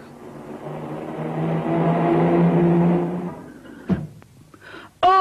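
A car passes close by, its engine swelling to a loud peak and fading over a few seconds, followed by a few sharp thuds and a brief high squeal.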